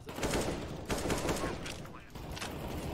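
Galil rifle fire in a first-person shooter video game, several loud rapid bursts of gunshots in quick succession with little pause between them.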